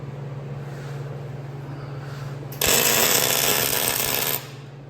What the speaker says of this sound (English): Let me grind it off.